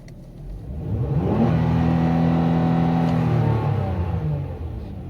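LPG engine of a Hyundai Grandeur HG revving up toward 5000 rpm, holding a steady loud drone, then smoothly winding back down, heard close without talk.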